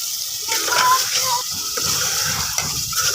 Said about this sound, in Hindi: तो बस इसमें हम पानी ऐड कर देंगे